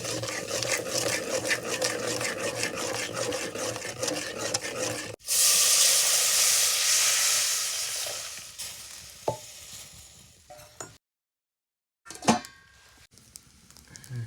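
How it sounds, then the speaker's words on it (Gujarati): Oil and chilli crackle and stir, then a sudden loud hiss bursts up as water hits the hot pan, fading over several seconds before quieter clatter. "તેલ મરચું ગરમ થઈ જાય પછી પાણી રેડવાનું હોય"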